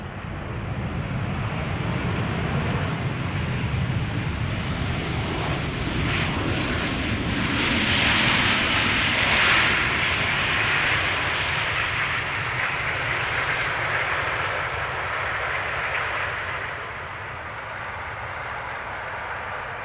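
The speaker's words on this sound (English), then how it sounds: "This is KLM flight 1422 arriving from Birmingham. 737-800." A KLM Boeing 737-800 jet landing at Schiphol Airport, its engine roar loud and sustained throughout, swelling to a broad peak midway and easing slightly near the end, with no talk.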